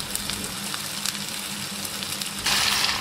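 Chicken roast with rose water and ghee sizzling steadily in a pan, a continuous crackling fry that swells louder and brighter near the end, with no talking.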